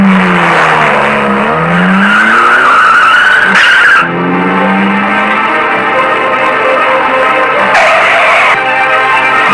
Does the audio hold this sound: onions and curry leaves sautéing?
no